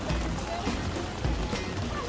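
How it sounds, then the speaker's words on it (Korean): A heavy rain shower on a college campus, a steady broadband hiss of rain that fills the whole clip at moderate level, with a voice faintly present. "비가 많이 내리네요."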